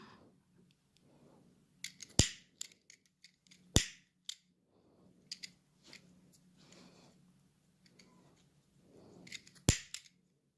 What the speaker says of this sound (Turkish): Fazla ipimi yakıyorum.